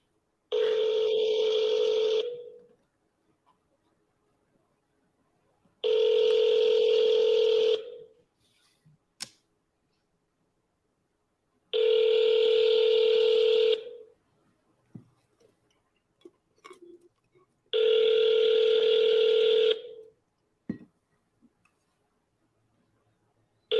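A telephone ringback tone during a cold call repeats four times, each long buzzing ring about two seconds long with roughly four seconds of near silence between, joined by a few faint clicks.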